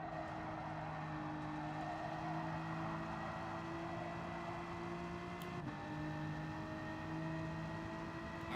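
Race car tires squeal in Gran Turismo 7, a steady engine drone with sustained high tonal squeal lines running throughout, a brief sharper burst near the middle.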